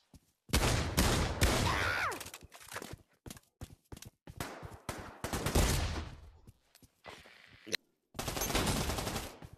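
Gunfire in the virtual reality shooter Pavlov comes in loud bursts of rapid automatic shots, broken by short gaps and single cracks, with no voices over it.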